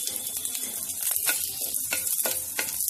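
Finely chopped green chilies sizzle steadily in hot oil, a dense crackling hiss broken by a few sharp pops and spoon scrapes, close and fairly loud with no voices.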